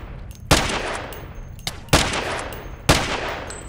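Gunfire in a video game on a Metal Gear style map: three loud, sharp shots spaced about a second apart, each with a short reverberant tail, heard alone without talk.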